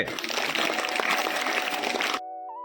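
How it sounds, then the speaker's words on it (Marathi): Applause from a crowd at a children's day event, dense and steady for about two seconds, then cut off abruptly and followed by a short synthetic tone. "टाळ्या रे"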